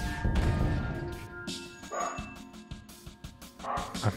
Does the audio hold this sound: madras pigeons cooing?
no